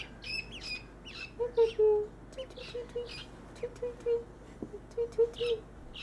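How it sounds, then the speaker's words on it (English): Little ducklings peep in a series of short, soft high chirps, scattered and fairly close, over low background noise. "So here's some little ducklings."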